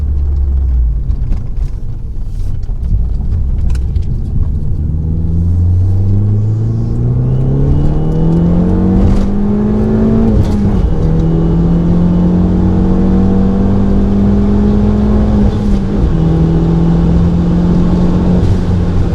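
A tuned Fiat 500 Abarth with a 1.4-liter turbo engine, bolt-ons and a tune, drives steadily, its engine note rising smoothly through the revs, dropping at a shift, then holding a loud, continuous drone with no talking.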